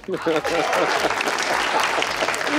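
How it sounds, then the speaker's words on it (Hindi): A studio audience at an Eid television talk show breaks into loud, full applause, dense clapping that swells right after a brief voice at the start and carries on steadily to the end. "ताली।"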